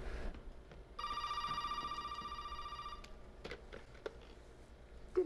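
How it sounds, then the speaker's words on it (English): A telephone rings in Resident Evil 7, a single steady electronic ring lasting about two seconds, then a few faint clicks and thumps in a quiet room. "I think we have to answer these phone calls for the most part."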